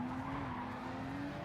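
Race car tires skidding in a racing game as a car misses its braking point, a steady close squeal with a sustained tone over engine noise, no talk.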